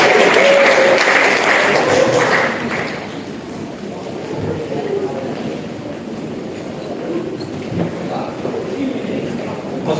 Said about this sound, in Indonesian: Kita tepuk tangan untuk yang terakhir.